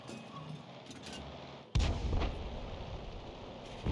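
In the World of Tanks video game, an artillery shell lands near a tank and damages its tracks. It hits as a single sudden heavy boom, followed by a rumbling, crackling decay over a faint background of battle noise.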